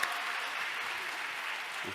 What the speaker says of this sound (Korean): 박성령 목사님께 감사의 박수 올리겠습니다